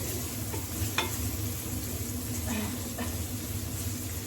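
Yakisoba noodles stir-fry in a pan with a steady sizzle under a constant low hum, with occasional soft scraping stirs and faint background voices.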